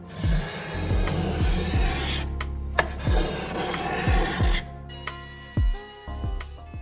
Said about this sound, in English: took the card scraper to remove any saw marks